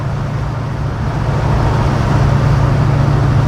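A 1969 Pontiac GTO cruising in fifth gear at about 55 mph, a steady low engine drone with road and tyre rumble that swells slightly after the first second, heard from inside with no talking.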